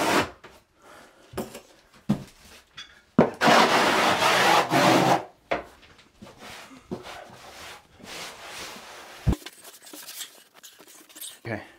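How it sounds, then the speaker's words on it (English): Thin-set mortar being scraped out of the joints of a freshly set tile mosaic on a tub shower wall, a series of close, rough rubbing and scraping strokes with a louder sustained scrape in the middle, with brief gaps between passes. "So just make sure you scrape out all this thin set"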